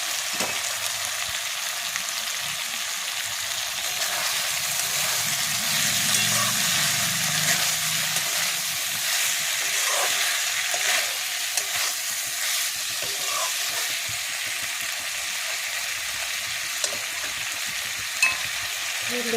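Shrimp with taro stolons (kochur loti) and spices frying in a pan, a dense, even sizzle that holds steady and close for the whole stretch, with faint stirring scrapes.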